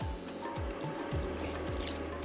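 Water is poured over jhangora millet biryani cooking in a pan with biryani masala, giving a steady hissing, splashing wash of sound that runs close and continuous for about two seconds, with faint low knocks underneath.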